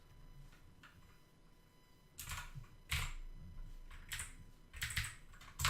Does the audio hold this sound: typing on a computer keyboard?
yes